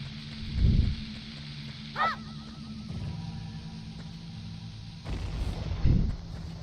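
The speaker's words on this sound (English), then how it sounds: "I just want to blow up the center one too, just to see what's behind that actually" Bomb flower explosions in Zelda 64's Ocarina of Time beta mod: two deep, booming low blasts about five seconds apart, each with a rumbling tail, plus a brief rising chime-like game effect between them over a steady background hum.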